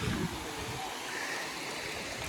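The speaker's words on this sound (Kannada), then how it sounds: "ನೋಡಿ ಇಲ್ಲೆಲ್ಲ ಹರಿತಾ ಇದೆಯಲ್ಲ ನೀರು" Cold stream water flows over the ground near Kolukkumalai in Munnar, a steady broadband rush of moderate loudness with a slightly louder burst at the start.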